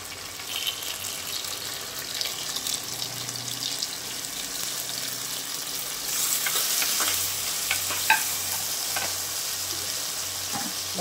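Tomatoes sizzle and fry steadily in a pan with onion and garlic as the base for a prawn curry with vegetables, a continuous close crackle with occasional stirring scrapes.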